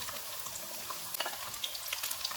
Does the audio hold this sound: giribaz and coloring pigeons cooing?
no